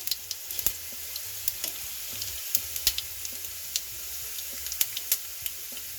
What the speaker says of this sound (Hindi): तेल गरम हो चुका है तो इसमें डालते हैं हम खड़ा धनिया, जीरा,